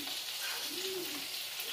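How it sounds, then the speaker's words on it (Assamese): Pointed gourd (potol) slices frying in a pan, giving a steady, close hiss of oil sizzling without pause and no voices. "পটল ফ্ৰাই কৰি আছো"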